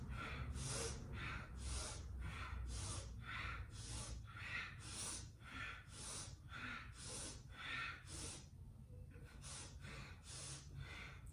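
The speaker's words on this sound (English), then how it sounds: "You're gonna inhale left and exhale right." Rhythmic breathing during a yoga exercise, alternating left and right nostrils: about a dozen sharp, snorting breaths in and out at a steady pace, close and clear over a low background hum.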